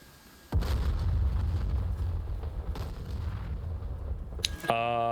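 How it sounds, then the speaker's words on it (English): Armor-penetrating bombs detonate in DCS World, a sudden deep blast followed by sustained heavy rumble and smaller crackling bursts, ending with a brief electronic tone sequence. "Let's see if these armor penetrating bombs do the trick"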